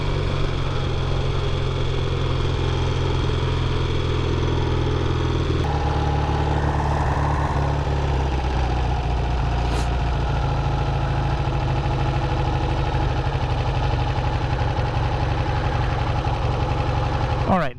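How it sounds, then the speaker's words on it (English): A warmed-up 1965 Triton motorcycle engine idles steadily and close by, a low throbbing rumble with a slight shift in tone partway through, running continuously to the end. "now that we've got the bike warmed up"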